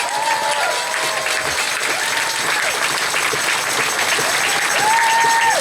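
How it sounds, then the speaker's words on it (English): A crowd at the No Kings 2025 protest rally claps continuously, a thick roar of applause with several high whistles rising and falling over it, loud and unbroken. "I just want to hear a round of applause for those people who put in the work."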